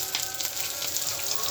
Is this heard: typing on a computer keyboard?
no